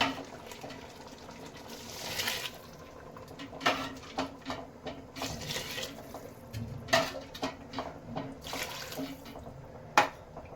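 Water splashes and pours into a pot for chicken biryani, six glasses over rice, with intermittent clinks of metal and vessel sounds, close by and moderately quiet.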